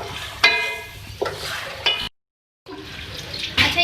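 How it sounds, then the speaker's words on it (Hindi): Tinda and potato curry with yogurt is stirred and fried in a pan, with repeated scraping stirs and a soft sizzle, close up, and a brief break in the middle. "अब इसको मैं मिक्स करूँगी और इसको भी हम अच्छी तरीके से भून लेंगे"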